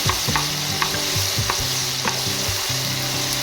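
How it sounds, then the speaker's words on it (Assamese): Ginger garlic paste fries in hot oil with a steady close sizzle, broken by repeated scraping knocks of a spoon stirring the pan, with no voices. "সেইখিনি তেলত ধুনীয়াকৈ ভাজি সিজাই ল'ম আদা ৰচুনখিনি"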